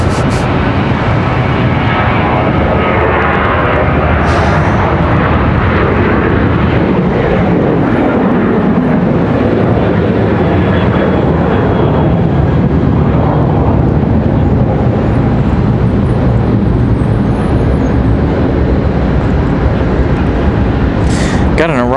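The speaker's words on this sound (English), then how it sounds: "Spirit Airlines coming in from Newark, New Jersey. A320 at 200." Spirit Airlines Airbus A320 arriving at Charlotte Douglas airport on approach from Newark, a loud, steady broadband jet roar holding throughout with talk over it.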